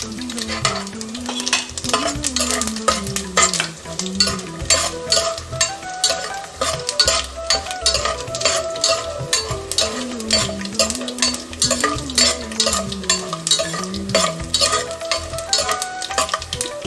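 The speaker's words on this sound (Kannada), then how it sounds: "ಗೋಡಂಬಿ, ಹಸಿಮೆಣಸು, ಶೇಂಗಾ ಬೀಜ ಎಲ್ಲ ಚೆನ್ನಾಗಿ ಫ್ರೈ ಆಗಿದೆ" Cashews, green chillies, peanuts, urad dal and cumin fry in oil for raw mango rice, giving a steady sizzle broken by the repeated scraping of a spoon stirring the pan.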